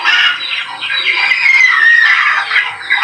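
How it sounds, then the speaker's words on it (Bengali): Native desi chickens kept indoors on a rainy day cluck and squawk continuously, a loud, close chorus of overlapping calls from several birds. "এইগুলো সব দেশি মুরগি।"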